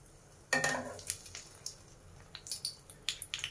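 Egg-dipped bread frying in a pan, heard as a soft, close crackling sizzle with a sharp clatter at the start and scattered light pops and scrapes after.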